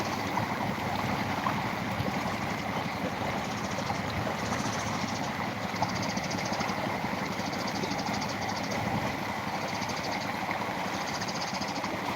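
Continuous churning water and steady mechanical rumble of a ferry boat moving across floodwater, filling the scene without pause, no voices present.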